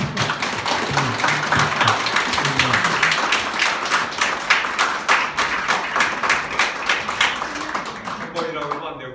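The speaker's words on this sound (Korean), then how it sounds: "우선 박수 한번 해주세요." Audience applause at a ceremony honouring an outgoing foundation chair, dense rhythmic clapping from a crowd that tapers into scattered claps near the end, with talk in the room.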